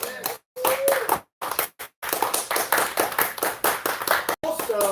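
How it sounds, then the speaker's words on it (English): A small audience at a youth open mic night claps for a young performer, the clapping coming in uneven bursts broken by brief silences, with some voices and chatter mixed in. "Let's clap your hands for Mia."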